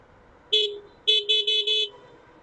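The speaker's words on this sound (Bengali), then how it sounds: "এই অটোগুলার কারণে প্রচুর পরিমাণে হর্ন ইউজ করা লাগে।" Vehicle horns honked in traffic behind auto rickshaws, one short beep then four quick toots in a row, loud and close with no talking.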